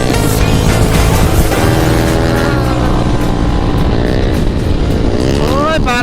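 A motorcycle engine drones loudly and continuously at close range, its pitch rising and falling with throttle changes as the bike rides along.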